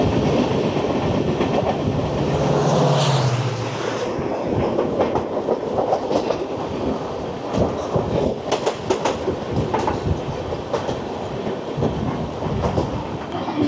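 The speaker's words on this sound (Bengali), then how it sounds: "বন্দে ভারত এক্সপ্রেস।" The Vande Bharat Express, train 22478 from Shri Mata Vaishno Devi Katra to New Delhi, rushes past near Bari Brahmana station before Jammu Tawi. It makes a loud, continuous roar with rapid wheel clatter and a brief squeal early on.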